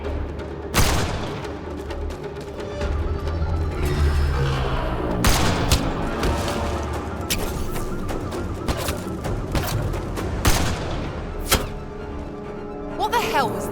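Gunfire in the Mass Effect Andromeda video game, sharp sci-fi shots and heavy impacts cracking out at irregular intervals over a dense rumbling battle bed, with voices speaking during the fighting.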